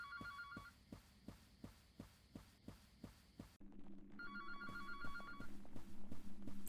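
Telephone ringing in the Anthology of the Killer video game: repeated bright electronic ring bursts in a steady pulsing rhythm, each with a low thump, pausing briefly before resuming louder over a low hum.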